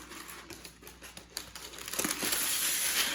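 Parchment paper is pulled from a roll and crinkled in a kitchen while cookies are being prepared, a close run of crisp rustling and crackling that swells louder toward the end.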